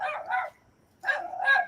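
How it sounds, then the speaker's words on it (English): A dog barks in two close pairs, sharp and fairly near, with a brief silent gap between the pairs. "Yeah, that dog does not belong in there."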